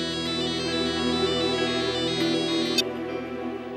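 A phone ringtone plays steadily with a repeating electronic melodic pattern, clear and close, continuing throughout.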